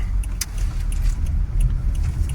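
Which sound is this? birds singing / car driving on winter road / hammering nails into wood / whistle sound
car driving on winter road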